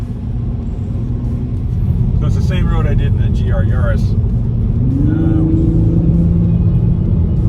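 Toyota GR Supra MK5 A90 engine held in sport mode and kicked down to fifth gear, a steady low drone with the revs rising partway through, heard from inside the cabin under someone talking.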